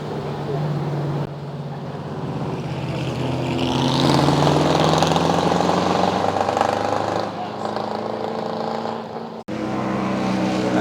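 Vintage race car at the Pittsburgh Vintage Grand Prix, an engine drone that swells as the car approaches and passes fairly close, then fades, with a person talking over it near the start.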